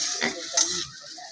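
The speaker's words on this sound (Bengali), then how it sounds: "এখানে রান্না করতেছি মূলা, এগুলো কষিয়ে তারপরে ডাল দিয়ে দেবো" Radish being sautéed in a pan gives a few faint, quick stirring scrapes over a soft sizzle, close by but quiet, then fades to low background.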